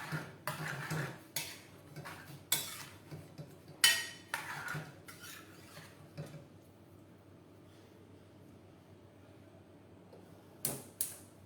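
Wild mushroom risotto rice stirred in a pan: intermittent spoon scrapes and metallic clinks against the pan, close and fairly quiet, fading to a soft simmer before a final pair of knocks.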